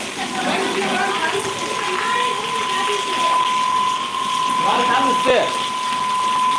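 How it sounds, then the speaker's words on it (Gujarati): Heavy torrential rain pours down steadily in Gujarat, a dense, continuous rushing hiss that stays loud and even throughout, with a faint voice briefly audible near the end. "તો મિત્રો અત્યારે ધોધમાં વરસાદ વરસી રહ્યો છે"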